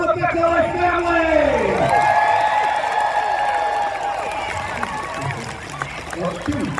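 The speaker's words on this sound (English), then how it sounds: "My ladies and a nice round of applause for the Glengarry family!" Crowd applause and cheering at a Renaissance faire for the Glengarry family, a broad clapping wash under a loud announcer's voice, tapering off toward the end.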